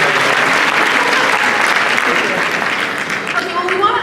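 Loud, dense audience applause at a Comic-Con panel for Beauty and the Beast, sustained clapping from a large crowd with a few voices mixed in, tapering slightly near the end.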